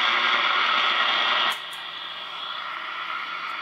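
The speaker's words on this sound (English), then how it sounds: "Without noise canceling, I can hardly hear him at all." A weak amateur radio signal lies buried in loud hiss and static with no noise cancelling applied, a steady wash of noise that drops slightly partway through, leaving only a faint trace of the transmission.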